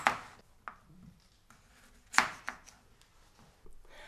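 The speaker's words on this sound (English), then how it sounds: "we need to cut the potatoes in half." A knife cutting King Edward potatoes in half on a chopping board, producing a few sharp, separate chops and taps at irregular intervals, close and clear with quiet gaps between.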